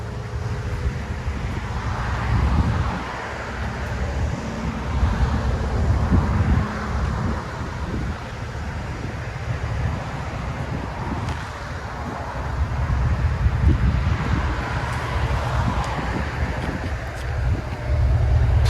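A 2020 GMC Sierra AT4 with dual Magnaflow exhaust rumbles low and steady as it backs out, its exhaust note swelling and easing over wind noise.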